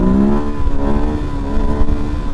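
A Suzuki DRZ400 400cc supermoto revs hard in first gear, a loud, close engine note climbing steadily in pitch and running alone without talk.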